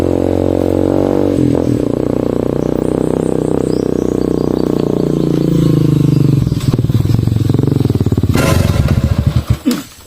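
A loud motorcycle engine roars close by, holding a heavy, rough drone with a rattling clatter before cutting off abruptly.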